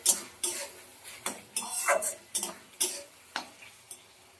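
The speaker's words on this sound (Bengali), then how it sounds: "টমেটোটাকে মশলার সঙ্গে ভালো করে কষিয়ে নরম করে নেবো" A spoon clatters and scrapes in a pan as tomato is stirred and fried with spices for a rustic Bengali village-style egg kasha, sounding as a string of distinct close clinks and scrapes with a soft background sizzle.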